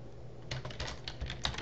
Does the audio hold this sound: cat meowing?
no